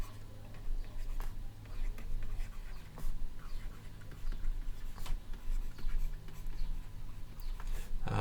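Chalk or marker scratching out an equation on a lecture-hall board during a plasma physics class, a steady run of faint scrapes and taps with room hum underneath.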